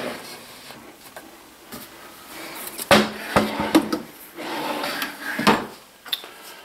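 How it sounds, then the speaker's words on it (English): Kitchen cabinet drawers in a Marlette Majestic 9597S manufactured home slide open and shut, giving several close rolling rumbles and sharp knocks at irregular intervals without speech. "Oh, and these drawers slide out."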